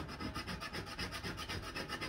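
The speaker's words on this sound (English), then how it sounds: "We're just scraping to break up those fibers some more." Dry fur hide scraped by hand to break up its fibers, a steady rhythmic rasping rub repeating about every quarter second, close and continuous with no talk.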